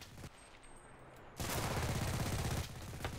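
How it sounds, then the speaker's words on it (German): A PPSh submachine gun in Enlisted during a Stalingrad battle lets off a long, dense automatic burst of over a second. The fire is loud and close over a busy backdrop of distant shooting. "Man muss die PPSH einfach lieben."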